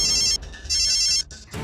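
An electronic phone ring repeats in two short bursts with a gap between, loud and close, then a third begins.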